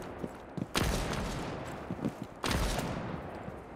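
Gunfire in a shooter video game comes as two loud, sharp bursts of shots, with faint scattered pops and footsteps between them.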